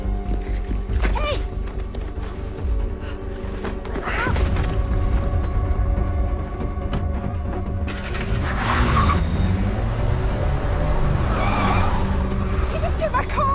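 A car tears away with its tires skidding and squealing, a loud mechanical rush that builds and stays close, with voices in the background.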